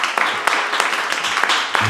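An audience applauds a musician at a live radio show, a dense run of claps mixing into a steady, fairly close patter with faint voices underneath.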